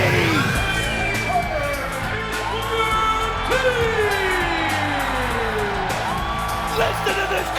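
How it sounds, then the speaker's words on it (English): Wrestling arena crowd in Orlando cheering and whooping for Booker T at TNA Genesis 2007, a loud continuous roar with rising whistles and yells beneath an excited commentator's voice. "Listen to this crowd!"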